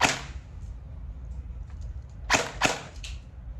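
Classic Army MP5A3 airsoft gun firing a few sharp cracking shots, one at the start and a quick cluster near the end, fairly faint with quiet gaps between.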